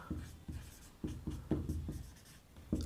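Point coordinates are written out on a board or paper during a Class 10 coordinate geometry lesson, heard as a series of close, distinct tapping and scratching strokes in an irregular rhythm, with no talk over them.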